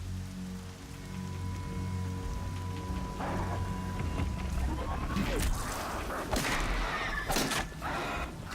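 Rain weather effect in the video game Horizon Zero Dawn, a steady broadband hiss of falling rain with patter on surfaces, mixed with game music tones and a few louder crashing bursts toward the end.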